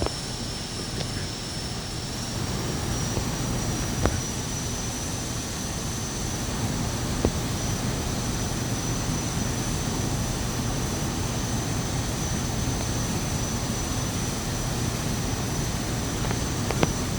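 A TBM-930 turboprop taxiing in the Infinite Flight simulator gives a steady, even engine drone with a thin high whine running throughout, broken by a few faint clicks.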